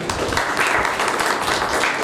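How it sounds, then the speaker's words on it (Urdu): A church congregation gives a brief burst of dense, steady applause for a young couple, loud and close, with many hands clapping at once and no voices heard over it. "اور اس نوجوان جوڑے کے لیے، عامر صاحب کے لیے اور طارق صاحب کے لیے بھی ہم تالیاں بجا دیں"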